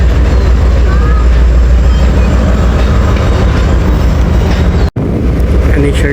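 The 2 Down Shuttle passenger train departs in Pakistan with a loud, continuous rumble and clatter of rail cars, heard from on board. A brief dropout comes near the end, and some voices sit under the noise.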